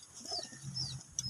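Young racing pigeons coo softly in a loft, a few low murmuring calls overlapping with faint chirps and a brief flutter near the end, close and quiet with no talk.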